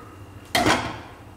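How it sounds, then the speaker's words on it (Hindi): Water is poured into a pan of besan kadhi mixture, a sudden splashing gush that starts loud and tapers off over about a second, with no talk. "और इसमें हम डालेंगे पानी थोड़ा सा"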